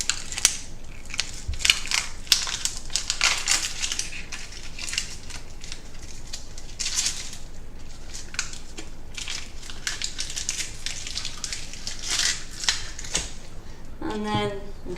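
Papery onion skin being peeled and torn off by hand, a continuous close crackling and rustling that runs throughout, ending in a brief squeak.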